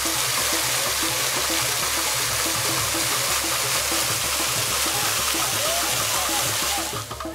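Water pours continuously at a cave waterfall in Anambra State, Nigeria, a loud, steady broadband rush that lasts throughout, with a rhythmic low pulsing beneath it.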